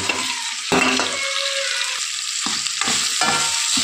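Potato, brinjal, drumstick and pumpkin pieces being stirred together in a pot for sambar, a close scraping and sizzling with short bursts of spoon strokes over a steady frying hiss.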